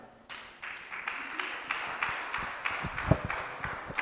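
A small, sparse round of clapping rises from a conference audience at a manuscript-system commissioning event. The claps are scattered and uneven, thin rather than full, and fade quickly.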